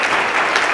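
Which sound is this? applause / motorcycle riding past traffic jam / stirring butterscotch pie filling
applause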